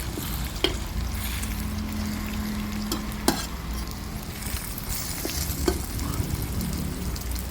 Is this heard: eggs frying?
yes